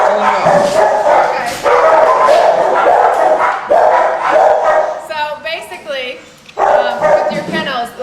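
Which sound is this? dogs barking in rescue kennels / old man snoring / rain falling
dogs barking in rescue kennels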